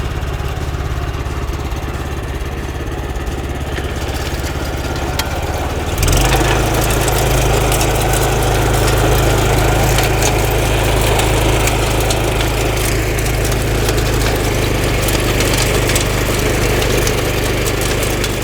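An Asia walking cultivator with a rotary tiller attachment runs its engine, idling quietly at first, then about six seconds in the clutch engages and a louder, steady, low vibrating drone carries on without pause.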